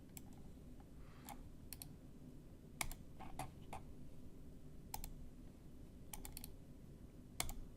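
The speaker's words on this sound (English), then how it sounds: "And I typed it there." Faint, quiet typing on a computer keyboard: scattered key clicks in short irregular clusters over a low background hum, with no talking.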